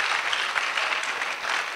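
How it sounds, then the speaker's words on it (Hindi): A literary festival audience claps loudly and continuously, a dense, even burst of applause with no voices over it. "अभी एक जोर तालियां हो जाए हाफी के लिए"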